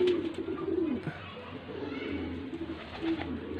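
Pigeons in a large Faisalabad flock, around a hundred birds being fed grain, give repeated low, soft coos close by, over a faint murmur of background noise.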